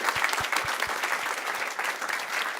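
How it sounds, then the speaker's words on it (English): An audience at a waste-to-resources livestream event in Gällivare gives sustained applause for a speaker, with dense, even clapping, a few low thumps early on and a faint murmur of the crowd. "Okay, I think we will give Thomas a big applause."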